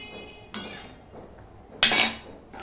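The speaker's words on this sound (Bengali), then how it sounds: "আমি ঢাকা দিয়ে দিলাম।" Metal lid set onto a cooking pot of bottle gourd, two bright clanking clinks a little over a second apart, close and clear against a quiet kitchen background.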